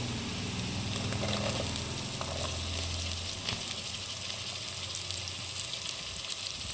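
Sliced onion sizzles in hot oil in a pan while cooking a traditional prawn curry with drumsticks, giving a steady, close frying hiss with light stirring and no speech.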